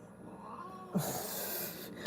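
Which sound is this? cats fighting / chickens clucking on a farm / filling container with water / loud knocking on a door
cats fighting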